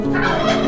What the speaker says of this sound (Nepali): म यहाँ टर्की पनि छ है गाइस